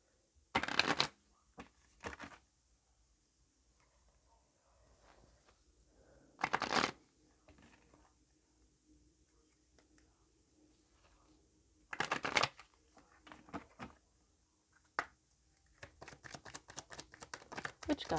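A deck of goddess oracle cards is shuffled in several crisp riffling bursts separated by quiet pauses, with a rapid flurry of softer card riffles at the end.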